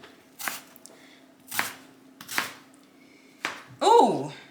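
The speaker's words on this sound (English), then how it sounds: "I'm gonna cut a 1/4 cup of red onion." A knife chops red onion on a cutting board in four separate crisp strikes spaced about a second apart, close and distinct, and a short voiced sound comes at the end.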